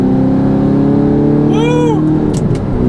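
Titanium exhaust with its valves open on a car, a sustained loud engine drone with one sharp rev rising and falling midway, close and steady throughout.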